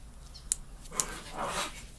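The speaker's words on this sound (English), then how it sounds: "Sorry about my dogs, guys." Dogs bark in the background of an indoor room, with two sharp distant barks about half a second apart and then a softer, drawn-out whine or yelp. No one speaks.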